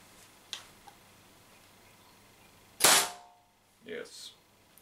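A Tippmann TCR CO2-powered gun runs low on gas, with a sharp, loud pop of one shot standing out near the middle, followed by softer mechanical clicks and ticks in a quiet setting.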